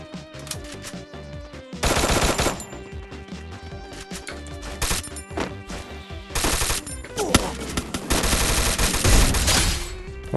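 Shotgun fire in a shooter video game comes as loud, close bursts of blasts and crashes, repeating in rapid clusters over a busy background of game noise.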